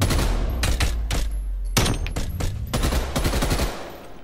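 Loud machine-gun fire in Call of Duty, delivered in several sharp sustained bursts broken by short gaps, close and unobstructed with no talking over it.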